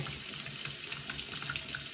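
Hot water runs from a tap at full flow after air was cleared from the line, a steady close splashing rush into a sink, continuous and fairly loud with no talk.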